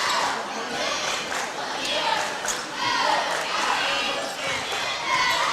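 Big crowd inside a basketball gym during a game, a dense roar of voices and cheering with a commentator speaking over it.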